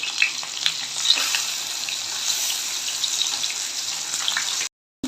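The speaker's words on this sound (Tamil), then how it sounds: "வந்து ஆயில் விட்டுட்டு நம்ம வந்து ஃப்ரை பண்ணிடலாம்." Fish fries in hot oil in a pan, a continuous close hiss and crackle with small pops, steady throughout before a brief cutoff near the end.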